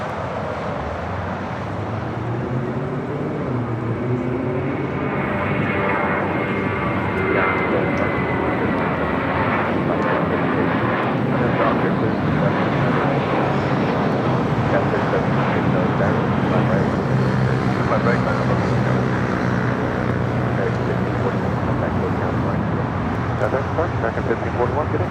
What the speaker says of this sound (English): Aeromexico flight 646 coming in from Mexico City, a 787-8 Dreamliner is our next arrival here on the south side